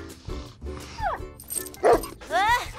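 A cartoon dog barks and yips in short bursts, with rising and falling whine-like cries, mixed among lively animated dialogue and background music.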